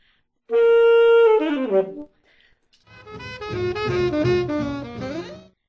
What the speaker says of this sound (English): A third stylistic element used in jazz is a fall.